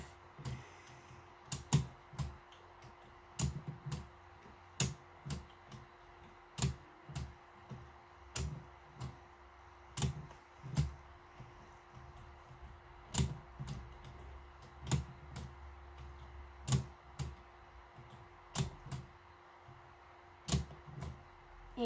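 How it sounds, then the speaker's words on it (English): Computer keyboards being typed on, with sharp, close key clicks and clacks in irregular bursts across a quiet room background. "ASMR of my keyboards."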